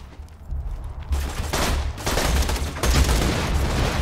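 Gunfire from a gun in a Borderlands video game, a dense burst of shots and booms that keeps going across the whole stretch, loud and close, with no talking over it.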